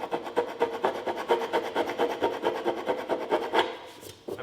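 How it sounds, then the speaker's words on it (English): Fingernail scraping against the grain across a primed, painted surface, a rapid series of close, rough rasping strokes in a steady rhythm, fairly quiet and with no talking. "I really have to scrape with my fingernail and I can get a little bit off."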